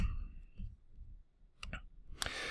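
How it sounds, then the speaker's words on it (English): A computer mouse clicks while an extension is being added to the Chrome browser, producing a few short, quiet clicks in a near-silent room, with a brief louder burst near the end. "So I'm going to click Add to Chrome."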